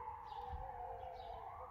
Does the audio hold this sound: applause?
no